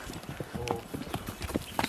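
Horse hooves clip-clop at a slow, uneven walk during a ride, soft and fairly distant, with faint voices in the background.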